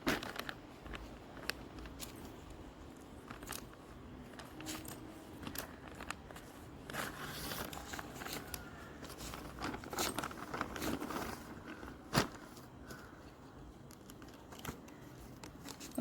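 A delivered parcel of kids' clothing is cut open with scissors, giving scattered snips, crinkles of plastic wrapping and light rustling handled close by over a steady low background, with no talking.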